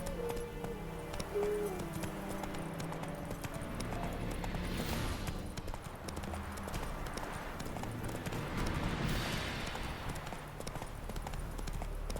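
Roach, the horse in The Witcher 3 video game, trotting with steady rhythmic clip-clopping hooves throughout, close and even-paced over a low ambient bed.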